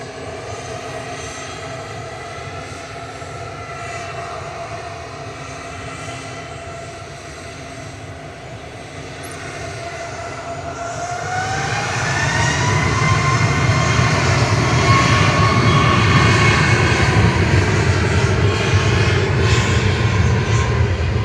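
Boeing 737 MAX 8-200 airliner at Manchester Airport, engine roar building from a distant hum into a louder, sustained rumble with a rising whine midway, no voices over it.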